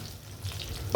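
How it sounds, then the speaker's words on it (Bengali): Onions frying with a pinch of salt in a pan give off a steady, close sizzle with light stirring scrapes, ending in a brief louder clatter. "লবণটা দিলে পেঁয়াজটা ভাজা ভালো হয়"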